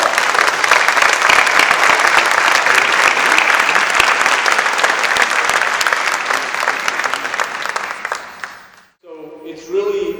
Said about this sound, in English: let's give them a round of applause for their service and sacrifice.